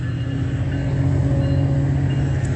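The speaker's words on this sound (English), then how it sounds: "what you're hearing is the Metrolink train." Metrolink commuter train passing nearby, a steady loud rumble of wheels on rail with sustained low humming tones throughout, no voices.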